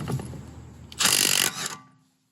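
A wrench on a VW Mk1/Mk2 30mm drive shaft nut gives a loud, close ratcheting burst after some low clunks, then stops and falls to silence.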